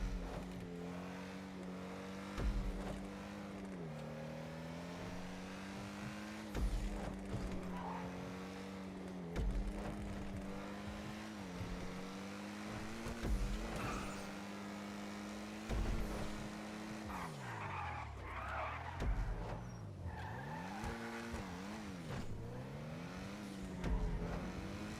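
A Lampadati Komoda engine in GTA races around a test track, droning steadily and rising and falling in pitch through repeated gear shifts and bends, with occasional tire squeal, fairly quiet and without talk.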